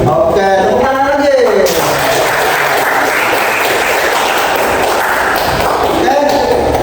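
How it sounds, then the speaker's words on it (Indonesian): Students in a classroom clap together, a dense burst of hand clapping filling most of the clip after a brief spoken lead-in at the start. "Oke, tepuk tangan lagi."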